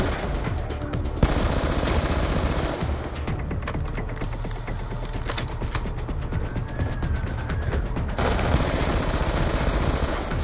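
Video game gunfire in Call of Duty Black Ops 2 campaign: loud, sustained rapid automatic bursts with brief pauses and a few mechanical clicks between volleys.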